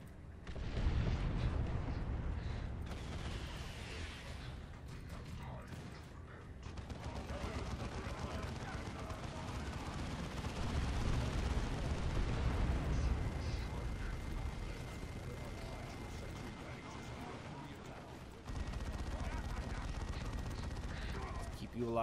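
Grenade explosions and gunfire in the strategy game Dawn of War 2, a long stretch of rumbling blasts and rattling shots from a busy battle, with a voice talking over the din.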